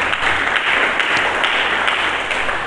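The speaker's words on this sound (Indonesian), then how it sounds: "Mari kita berikan tepuk tangan bagi Yesus." Church congregation applauding during a sermon, a dense steady wash of many hands clapping together throughout the short stretch, loud and fairly close.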